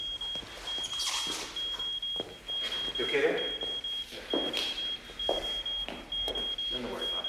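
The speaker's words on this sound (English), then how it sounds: "No, it's the alarm." A house alarm sounds a sustained high-pitched electronic tone that runs almost unbroken beneath several people talking nearby.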